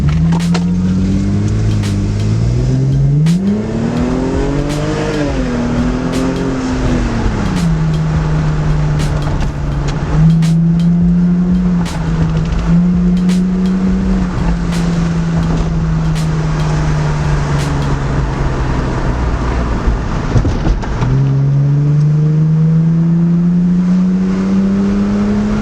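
Lexus IS300 fitted with a Y-pipe, engine revving steadily with pitch rising and falling and a continuous loud exhaust drone, close to the microphone, with no talk over it.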